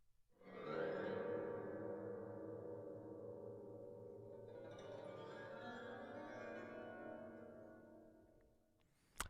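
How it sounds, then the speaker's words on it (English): An atonal piano sample from the Absynth synthesizer swells into a dense, eerie sustained tone, then drifts and shimmers before fading away. It is quiet and ends on a sharp click. "I picked this atonal piano sample"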